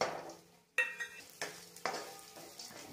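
Dry fruits roasting in a spoonful of ghee in a pan, with a soft continuous sizzle, close and quiet, broken by several scraping stirs of a spoon against the pan.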